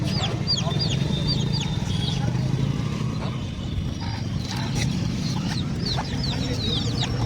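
A large four-to-five-kilogram rooster and other fowl cluck and call in a busy poultry market in Ahmedpur, heard fairly loud against a steady crowd hum with people talking throughout.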